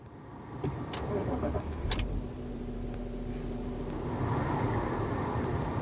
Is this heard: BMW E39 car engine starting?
yes